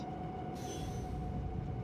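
Train rolling along the tracks in Factorio, a steady low rumble with a constant tonal whine running throughout, fairly faint and even, with no talk over it.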